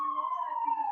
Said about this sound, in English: And here come the sirens.